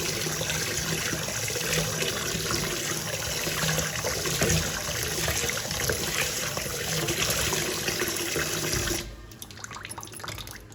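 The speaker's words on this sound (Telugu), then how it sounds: "ఇలా ఒక 2-3 సార్లు నీట్గా బియ్యాన్ని కడగాలండి." Rice is washed in water under a running tap, with steady splashing, swishing and trickling up close for several seconds before the flow stops abruptly.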